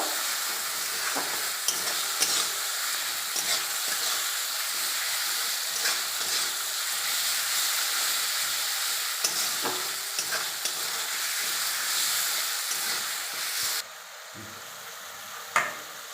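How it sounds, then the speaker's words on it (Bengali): Peas with a little water are stirred in a pan, giving a constant loud sizzling hiss with occasional scrapes and taps of the spoon, before the sizzle drops sharply near the end. No speech. "অল্প পরিমাণে জল দেব, মটরশুঁটি দেব, ভালো করে নেড়ে নেব।"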